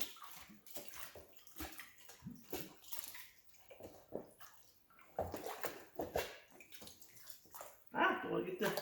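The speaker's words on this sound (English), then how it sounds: "rinse this out." Water runs and splashes as a tray that held a slug of material is rinsed out, with uneven gushing bursts and a louder splash near the end, while a person talks over it.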